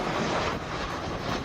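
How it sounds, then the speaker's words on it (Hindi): A Turkish radar surveillance aircraft deployed to Lithuania for NATO air defence, its engines producing a steady, loud, broadband roar throughout the short clip. "रेडार विमान। ये देखिए जरा,"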